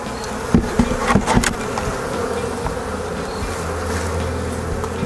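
Honey bees buzz in a continuous close drone during a honey harvest, with a few sharp knocks and taps near the start.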